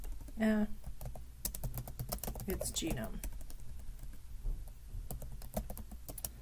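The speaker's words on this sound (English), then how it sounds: "So I do some more typing." Clicky keystrokes on a computer keyboard come in a quick, irregular run of typing at close range, with a brief stretch of talk near the start.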